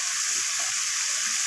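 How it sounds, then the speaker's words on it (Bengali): Tomatoes, eggplant and other vegetables with salt and ginger paste are stirred in a hot wok. A steady, loud sizzle and hiss fills the space, with light scraping under it and no talk. "তো আবারও সমস্ত কিছু এইভাবে নাড়াচাড়া করে আমি কষিয়ে নিচ্ছি।"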